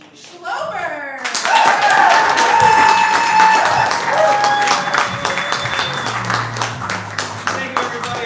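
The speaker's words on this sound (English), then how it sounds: "let's warm up the room with our applause and welcome to the stage" Live audience at a Saturday night improv comedy show applauding as the duo Schloe takes the stage, a dense, sustained burst of clapping and cheering that builds quickly, holds, then tapers while voices begin speaking over it.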